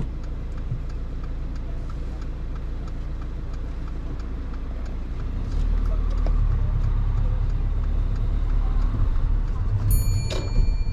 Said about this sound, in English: let's drive off